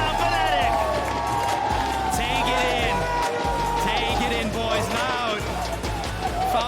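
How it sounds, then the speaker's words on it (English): A large esports arena crowd at the 2022 League of Legends World Championship play-ins, LOUD vs Fnatic, roars and cheers loudly and steadily, with whistles and claps in the din, while an announcer talks excitedly over it. "the crowd goes wild"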